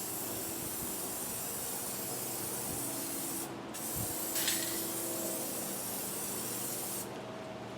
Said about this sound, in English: I'm just going to give it a spray of like a wax pen preservative